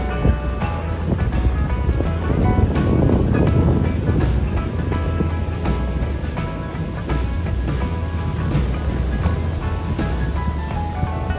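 Rough surf crashing onto an unpatrolled beach on Phillip Island, a steady loud roar of breaking waves mixed with gusting wind across the microphone, constant throughout with no voices.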